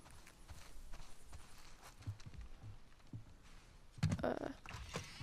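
Horse hooves clip-clopping at a slow, uneven walk in The Last of Us Part II video game, soft and fairly distant, with a louder burst of movement near the end.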